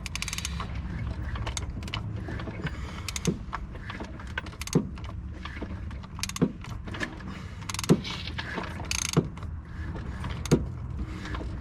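The diesel engine of a BMW E90 320d is turned over slowly by hand during crank pulley replacement, with rhythmic ratcheting clicks and mechanical creaks and taps at irregular intervals, quiet and close, with no talk.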